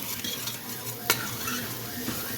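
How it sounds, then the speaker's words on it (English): Onions and garlic sizzle steadily in a hot pan while being stirred, a continuous frying hiss broken by one sharp utensil scrape against the pan midway. "Add the onions. Get that going. Keep moving that around."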